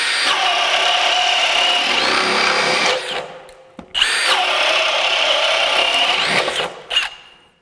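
A Milwaukee M18 FUEL 2906-20 hammer drill bores a 1.5-inch hole through dry lumber in two loud, sustained whining bursts of about three seconds each, separated by a short pause with a brief click between them.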